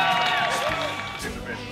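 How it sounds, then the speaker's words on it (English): A crowd in Invergordon cheers and applauds for the Stoltman brothers, the strongman siblings, with steady clapping and whoops swelling under a voice addressing them. "Give them a massive round of applause."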